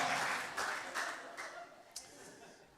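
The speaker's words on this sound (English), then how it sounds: "Somebody clap their hands real loud in Jesus' name." Church congregation at a revival service claps hands in a faint, diffuse burst of applause that gradually fades, with a few sharper claps and murmuring voices underneath.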